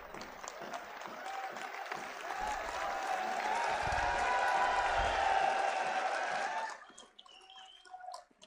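Crowd applause at a political rally in Haryana, a broad wash of many people clapping that swells and holds for several seconds, then drops away abruptly into quieter background sound.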